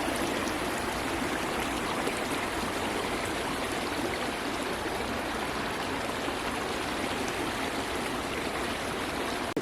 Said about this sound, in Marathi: हे सगळं घाण गटारीचं पाणी सर्व नदीपात्रात सोडलं जातं.